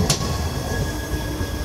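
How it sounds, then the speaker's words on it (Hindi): A weekly express train from Indore to Bareilly via Etawah and Kanpur rolls past close by, a loud continuous rumble with a faint high squeal and an early sharp metallic click. "इंदौर से चलकर इटावा कानपुर के रास्ते बरेली को जाने वाली साप्ताहिक एक्सप्रेस"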